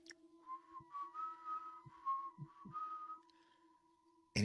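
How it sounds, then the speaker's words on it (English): Eerie, quiet whistling carries a thin, wavering melody in several drawn-out phrases, standing nearly alone in a hushed setting and then cut off by a sharp click at the end. "he hears this whistling, like coming from outside of the house"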